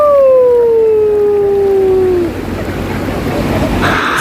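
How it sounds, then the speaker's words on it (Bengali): Waves wash onto a Goa beach on the Arabian Sea, a steady broad hiss of surf that takes over after a fading tonal sound at the start. "এই যে আরব সাগরের বালি, ঢেউয়ের আওয়াজ শুনছো?"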